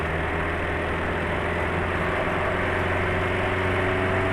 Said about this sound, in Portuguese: Vou acelerar um pouquinho mais.